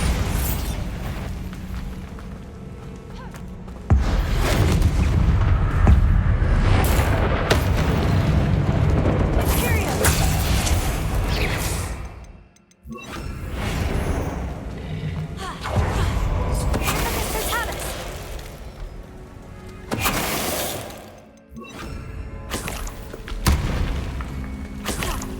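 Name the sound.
Bombarda blasting spell explosions in Hogwarts Legacy video game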